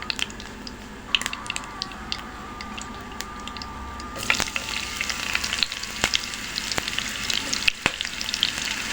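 Chopped onion frying lightly in oil with a bay leaf for a cabbage and egg dish, a soft sizzle that swells louder partway through, with sharp intermittent stirring clicks against the pan.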